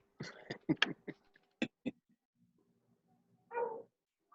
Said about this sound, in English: Oh, my dog's barking at me.